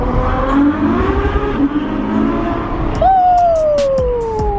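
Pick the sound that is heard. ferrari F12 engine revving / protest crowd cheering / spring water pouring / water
ferrari F12 engine revving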